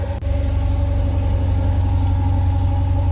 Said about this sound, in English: I still don't really like the sound of this car